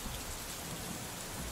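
Steady rain pours down outdoors, a dense continuous hiss of drops striking surfaces, loud and even throughout with no voices.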